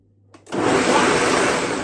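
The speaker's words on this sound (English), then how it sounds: "So when you soak it, you just put it in the blender, okay?" A kitchen blender switches on after a brief quiet click and roars loudly and steadily as it grinds soaked beans for moi moi, with no talking over it.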